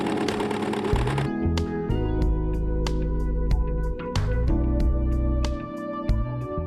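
A sewing machine stitching together the bottom and sides of a reusable fabric bread bag, running in steady rapid bursts with short pauses and clicks between them, close and alone.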